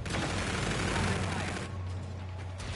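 Rapid gunfire from a shooter video game with a rail weapon, steady bursts filling the whole stretch at close range, with a voice talking underneath.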